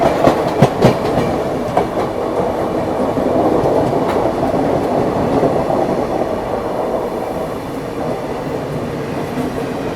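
The Mussoorie Express passenger train rumbles along steadily at speed near Sahibabad, wheels clattering over the rails with a few sharp clicks near the start, no voices.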